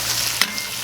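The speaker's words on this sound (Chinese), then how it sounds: "好像下入这个猪肝， 来炒一下" Pork liver stir-fried in a wok, a close, loud sizzle with a quick clatter of stirring partway through.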